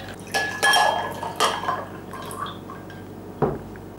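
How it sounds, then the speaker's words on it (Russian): Ice is tipped into homemade lemonade in a dish, a few loud clattering rattles and clinks of ice against glass, then a brief splash and a final knock, all close and with no talk. "И в завершение добавлю 200 мл льда."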